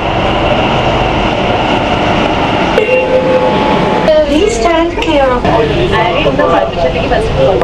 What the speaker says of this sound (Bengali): মেট্রো আমাদের ঢুকে গেছে এখানে